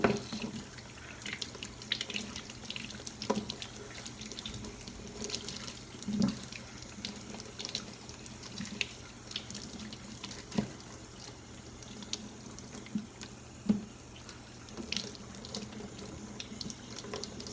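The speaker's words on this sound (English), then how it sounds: "we're done washing our carrots in cold water" Cold water running from a sink tap as carrots are washed, a steady splashing flow broken by occasional louder knocks and splashes of the produce being handled, close and continuous with no talking.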